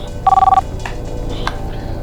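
A telephone in an office setting gives one brief electronic ring burst of rapid pulsing tones, followed by quiet room noise.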